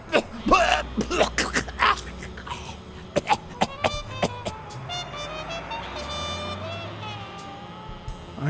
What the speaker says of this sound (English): You've got one nasty cough.